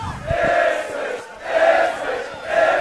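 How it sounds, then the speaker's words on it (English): Spectators at a schoolboy rugby match between Ipswich Grammar School and The Southport School shout and chant loudly, the roar rising and falling in three strong rhythmic swells. "The crowd getting vocal."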